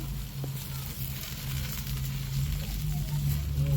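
A smoked tomahawk steak sizzles steadily during its reverse sear, a close, even crackle over a constant low hum.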